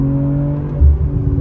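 A BMW B58 engine revving on kick-down heard from inside the car, a steady loud drone that swells briefly partway through, with no talk over it.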